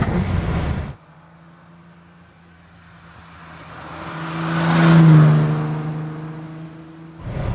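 A 1965 Ferrari 330 GT 2+2 engine hums and builds as the car slows hard, ending with a brief, faint chirp from the tyres under braking.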